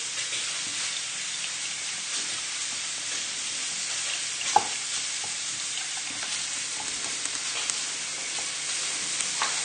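Sesame-crusted tuna sizzles steadily in a frying pan, a constant close crackle with a few small pops and clinks over it, with no talking.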